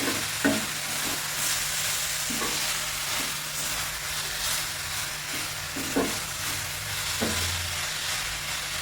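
Ground coconut paste for carrot thoran fries in hot oil, a steady sizzle broken by several scraping stirs of the pan.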